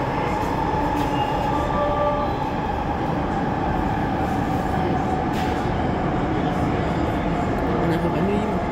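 An RER NG Z58000 commuter train running into a Paris station, a loud continuous rumbling drone with faint rail clatter and brief squeals, heard from inside the train, with speech over the noise.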